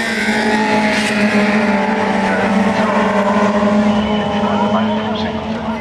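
Sevenesque race cars on the track during the final lap as one driver attacks a Mercedes, a steady loud blend of engine roar and whining revs throughout, with a commentator talking over it.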